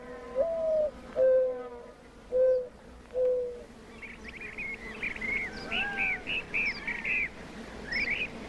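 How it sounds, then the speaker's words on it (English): Mourning doves coo in a sun-drenched saguaro cactus forest in spring, several soft, low, hollow coos drifting from moderate distance, followed by a run of higher, busier chirping bird calls from other desert birds. "the coo of the morning doves is only one of the many songs that fill the cactus forest"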